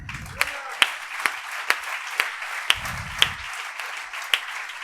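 Scattered applause from a crowd, with a few sharp louder claps standing out at a steady pace, and bits of low voice murmuring between them.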